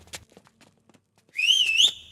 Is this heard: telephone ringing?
no